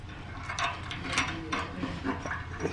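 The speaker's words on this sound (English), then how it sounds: "We just take this bolt back out," A ratchet clicks in short, quick bursts as a bolt is backed out of a running board on a 2023 Ford Bronco, close and fairly quiet, with no talking.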